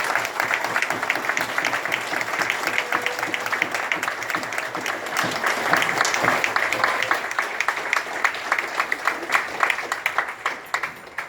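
Audience at a veterans' gathering applauds steadily, a dense, continuous wash of many hands clapping for the full length at moderate level with no talking over it.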